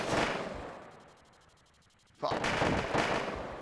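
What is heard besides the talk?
12.7 mm Gatling cannon firing a burst, from a video game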